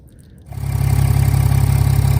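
A BMW N57 diesel engine in a 330d catches and settles into a loud, throbbing, low idle with a rough rhythmic pulse, very close, unmuffled with the exhaust removed, and with no voices.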